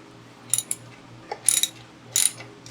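A hand ratchet clicks in short bursts while loosening half-inch bolts on a Triumph TR4 gearbox, with four quick, close, sharp ratcheting runs separated by pauses over a faint low hum.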